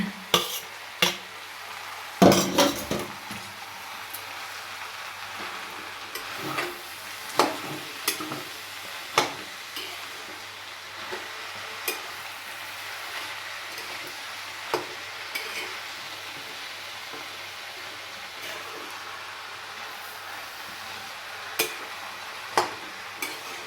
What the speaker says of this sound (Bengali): ভালো মতো মিশিয়ে নিতে হয় পুরো বাঁধাকপির সাথে